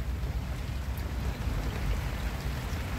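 Heavy rain falling over a fishing spot where snakehead are being caught, a thick, unbroken wash of droplets hissing close by, steady and loud throughout without voices.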